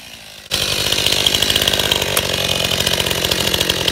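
A STIHL MS271 Farm Boss chainsaw starts cutting through a log. Its engine roars up abruptly and holds a loud, steady, close buzz as the chain bites into the wood.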